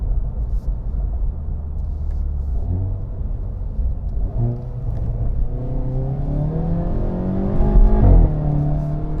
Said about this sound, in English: Can try to go for a bit of a very brief acceleration run.